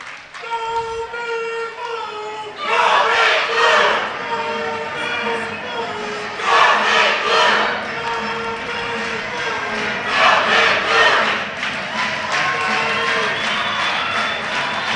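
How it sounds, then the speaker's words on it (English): Lively crowd cheering and yelling at a high school volleyball game between the Meeteetse Pioneers and Ten Sleep Longhorns, a steady roar that swells in loud waves, with a few voices cutting through. "Pioneer crowd is absolutely energized right now."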